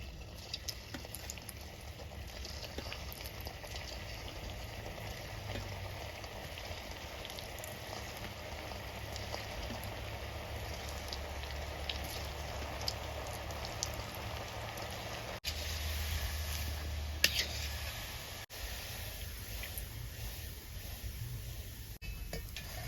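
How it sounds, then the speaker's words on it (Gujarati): Gulab jamun balls frying in a deep pan of oil, a continuous soft bubbling and crackle like light rain, steady and close throughout with no talking. "હવે ફટાફટ બધા તળી નાખીએ"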